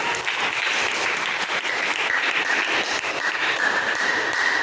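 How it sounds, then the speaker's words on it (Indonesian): Steady applause from a group of people, sustained clapping at even volume throughout. "Tepuk tangan untuk Mas Iwan."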